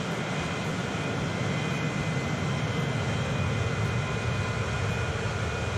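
Steady, even engine drone of a cargo plane flying in the video game Transport Fever 2, a wide continuous rumble that stays at one level, fairly faint and alone.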